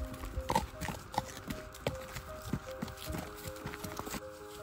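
Irregular clip-clop of horses' hooves walking at a campsite in a regional park, close and uneven, with faint tonal ringing and background activity.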